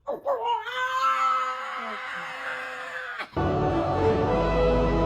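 A pet cat gives a long, loud, drawn-out yowl that rises and holds, somewhat like a dinosaur roar, before cutting off abruptly into a rough, noisy rumble.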